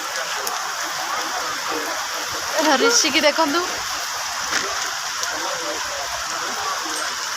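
Rain falls steadily at a monsoon festival fair, a continuous close hiss of drops beneath people talking, with a brief louder patch of voices partway through.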